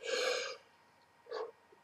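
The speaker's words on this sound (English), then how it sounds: "excuse me for the yawning." A single drawn-out breathy yawn with a voiced tone, followed after a pause by a shorter breathy exhale, close and fairly quiet.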